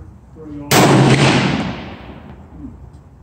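A single loud rifle shot from a TC Compass 6.5 fitted with a LimbSaver barrel dampener, fired at a target while sighting in, with a sharp close crack and a long rolling echo that fades over about two seconds.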